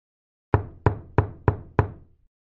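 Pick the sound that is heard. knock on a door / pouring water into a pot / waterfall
knock on a door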